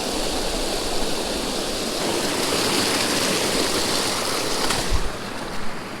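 A small waterfall spills into a stream where trout are being fished, giving a steady, close rush of falling water that holds even throughout, with one brief knock near the end.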